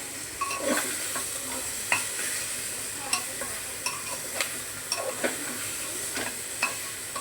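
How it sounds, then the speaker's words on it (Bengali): Marinated chicken pieces are stirred in a hot pressure cooker, giving a continuous sizzle broken by repeated scraping and clinking strokes of the spoon against the pot, close and fairly quiet, with no talking. "দেবার পরে এটাকে ভালো করে একটু নাড়াচাড়া করে নিতে হবে"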